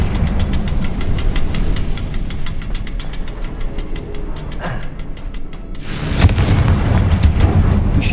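Confringo blasting spell going off in the Hogwarts Legacy video game, a sharp burst followed by a loud, broad crackling blast near the end, amid rattling impacts and ongoing game noise.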